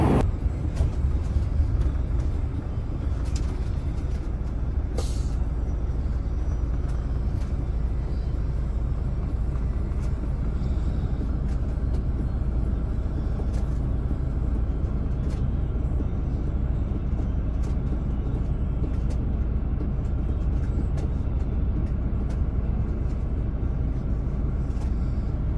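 Inside a bus heading to board a ferry on a sea trip from Belfast to Glasgow, a steady low rumble of engine and road noise drones on throughout with no talk.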